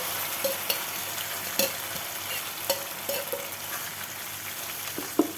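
Spinach and mustard greens go into a ghee tempering with browned onions, hissing and sizzling steadily while a spoon scrapes and stirs in sharp, intermittent knocks against the pan.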